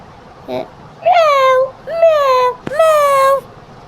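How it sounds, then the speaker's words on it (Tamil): A cat meows three times in drawn-out, rising-falling cries, close and fairly loud over a faint background. "இன்னும் என்னமோ கத்துற மாதிரி சவுண்டு இருக்குது. Meow, meow, meow."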